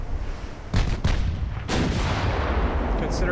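Ten-inch naval guns fire in Ultimate Admiral Dreadnoughts, two loud deep booms close together followed by a third heavy blast and a lingering rumbling roar.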